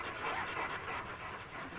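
A dog pants rapidly in a busy park setting, quick breathy huffs in a steady rhythm, moderately close and fairly soft against a background hiss.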